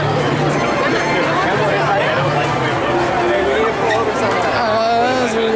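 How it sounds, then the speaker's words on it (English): Crowds of people chatter at the River Belle, a loud, close, unbroken babble of many overlapping voices filling the space. "the crowds of people."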